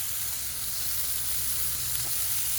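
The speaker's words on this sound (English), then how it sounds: "I'm gonna throw on a little bit of onion." Onion sizzling on smashburger patties on a KamadoJoe grill, a dense, constant hiss that stays even and close for the whole stretch, with no talk.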